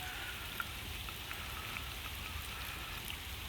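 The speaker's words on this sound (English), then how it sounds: "Lake is rising with all this rain." Steady rain falls on a lake, a dense, even hiss of drops striking the water with a few louder individual splashes, close and continuous with no voices.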